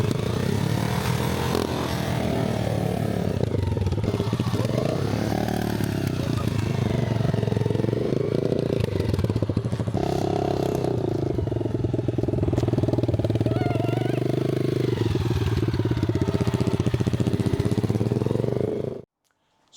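A Honda 500 Custom motorcycle engine running steadily for the whole stretch, close and loud, its mid-pitched rumble rising and falling slightly with throttle before cutting off abruptly at the end.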